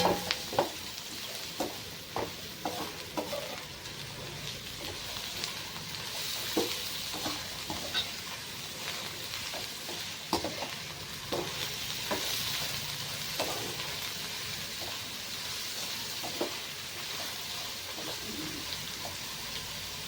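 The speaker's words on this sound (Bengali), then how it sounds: "গাজরগুলো দেখে বড় বড় লাগছে কিন্তু ভাজলে এগুলো ছোট হয়ে যাবে সবজিগুলোকে ভালো করে ভেজে নিতে হবে" Chopped carrots and other vegetables frying for fried rice, a continuous sizzle under repeated sharp spatula scrapes and clinks against the pan, close and fairly loud.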